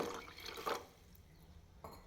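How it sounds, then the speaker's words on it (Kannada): Short splashing bursts of water poured into a cooking pot to make payasam, close and fairly soft, then a brief final trickle. "ಸ್ವಲ್ಪ ನೀರು ಹಾಕೋಣ"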